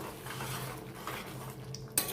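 A spoon stirs pav bhaji in a kadhai as peas are mixed in, soft scraping and faint sizzling at low volume, ending in one sharp metallic clink.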